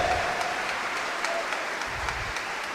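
A church congregation applauds during a sermon. The clapping is soft and distant, a steady low wash that holds for a few seconds without voices over it.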